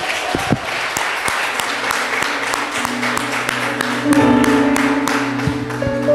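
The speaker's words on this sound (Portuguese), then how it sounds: "Vamos aplaudir o Senhor" A church congregation claps for the Lord during an evening worship service, giving dense, steady applause throughout, with sustained musical tones from a keyboard or organ underneath that swell louder partway through.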